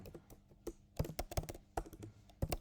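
Close keyboard typing while JavaScript code is written, quick uneven runs of soft key clicks with brief pauses, fairly quiet and with no talking.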